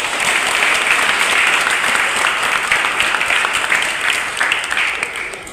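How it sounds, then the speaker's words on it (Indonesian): Audience at a theatre performance applauds steadily for several seconds, a dense, loud wash of clapping that fades slightly toward the end. "Boleh kita tepuk tangan untuk kita semua."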